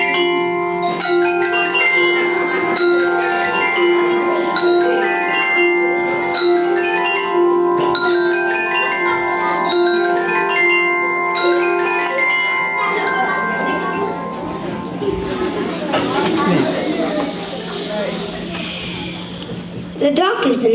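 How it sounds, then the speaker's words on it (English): The bird theme from Peter and the Wolf plays as a jumpy, high-pitched melody in quick repeated phrases, then gives way to a noisy, blurred passage with voices toward the end. "Jumpy and high-pitched, the bird's song sounds like this."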